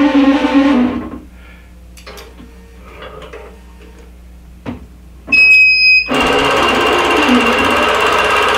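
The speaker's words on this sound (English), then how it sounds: "I'm going to go ahead and start the machine now that I've got it." A longarm quilting machine starts up and stitches a spindle design across an appliqué quilt, with a steady, loud mechanical whir and hum after a few scattered clicks and taps, no talk.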